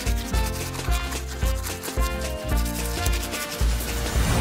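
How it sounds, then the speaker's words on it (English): Quick, rhythmic scrubbing in a cartoon kitten tooth-brushing video game, a dense rubbing texture over busy background music, with no talk. "Now they'll need a good brushing."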